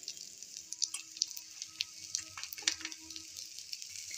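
Anda roll frying in desi ghee on a pan gives a close, quiet, steady sizzle with small crackling pops scattered throughout.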